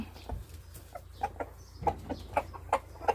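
Chickens cluck softly while eating azolla, over a low background hum, short clucks repeating steadily and growing more regular.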